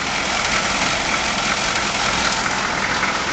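A 6.2 liter Chevy diesel engine in a TransVan idles steadily, a close, loud, even rumble with no change in pitch throughout.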